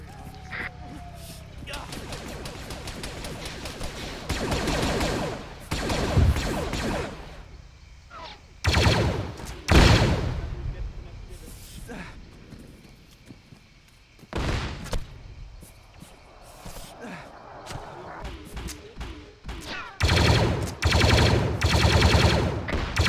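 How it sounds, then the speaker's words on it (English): Artillery fire and gunfire in an Arma 3 battle, with bursts and booms breaking out at intervals across the scene amid loud, chaotic rumble while players talk throughout. "Oh, artillery. Artillery."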